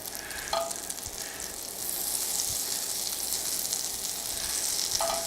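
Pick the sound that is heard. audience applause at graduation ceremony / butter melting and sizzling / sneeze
butter melting and sizzling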